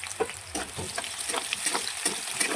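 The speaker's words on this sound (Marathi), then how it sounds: "कांदा जरा चांगला लालच तळू द्यायचा" Onion fries with ginger-garlic paste in a pan, a steady close sizzle with irregular scraping stirs of a spoon running through it.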